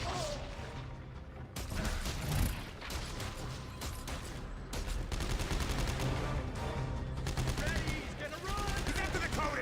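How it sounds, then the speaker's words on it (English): A rivet gun firing in Dead Space 3 gives rapid, close, sharp shots in uneven bursts amid combat crashes and thuds, with voices speaking at times through the din. "The rivet gun works pretty well."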